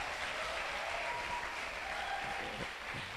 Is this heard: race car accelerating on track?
no